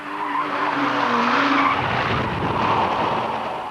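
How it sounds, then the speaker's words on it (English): A road car skids and squeals its tyres on a hydraulic jack cradle that lifts its wheels at a racing drivers' school, a loud continuous screech over engine roar with no talk. "Hydraulic jacks on the corners of a cradle lift the wheels on a road car so that it skids easily."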